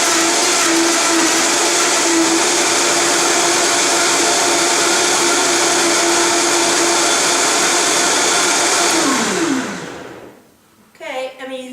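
A high-speed blender whirs loudly and steadily while mixing a green smoothie, a dense roaring motor drone that runs for several seconds, then winds down and stops, leaving brief faint handling noises and a voice.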